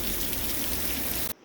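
Heavy rain pours down steadily outside a camper van near Sopelana beach, a dense continuous hiss that cuts off abruptly near the end.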